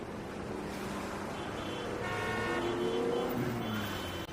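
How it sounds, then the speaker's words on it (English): Distant city traffic with car horns honking, a steady roadway hum where several drawn-out horn toots rise and overlap toward the middle, heard from afar with no voices. "From the highest point of the building could anyone hear the sound of distant train and honking of cars."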